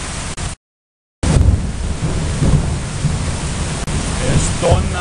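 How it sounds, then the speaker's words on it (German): Steady heavy rain from a storm over Asuncion hisses throughout, with low rumbling thunder underneath and a brief dropout of silence near the start. "es regnet, es regnet und manchmal donnert das auch."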